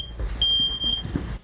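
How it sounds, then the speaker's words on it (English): A combination photoelectric and ionization smoke detector sounds during a fire department smoke detector test, giving a loud, sustained high-pitched alarm tone over a low background rumble, with a brief chirp just before it. "the combination photoelectric and ionization detector sounds off"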